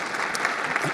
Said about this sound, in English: A little applause there.